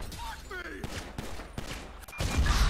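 Rapid gunfire in the police-patrol mod of the video game GTA V, several sharp shots cracking in quick succession over engine noise and a voice, ending in a louder rumbling burst.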